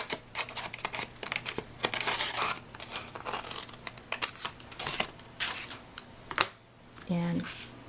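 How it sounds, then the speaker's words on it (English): Paper being handled and snipped with scissors, with crinkling and short cutting sounds close by under ongoing talk, ending in a brief clearer snip. "there's my scissors, cut out a little square"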